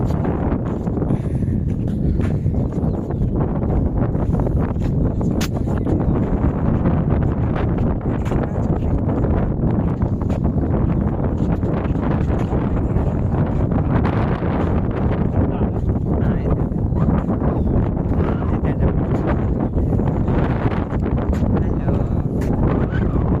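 Strong wind blows outdoors in a loud, unbroken roar that buffets the microphone for the whole stretch.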